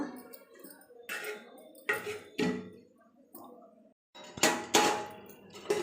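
Metal pots and lids clang and clatter in a home kitchen, with several sharp knocks and scrapes in bursts as a lid is set onto a cooking pot of soybean curry, close and fairly loud.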